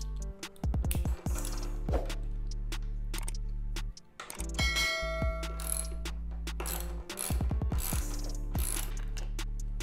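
A ratchet fitted with a 13 millimeter socket works a seat bolt on a Harley V-Rod motorcycle, giving rapid clicking runs in bursts with short pauses between strokes, close and fairly loud.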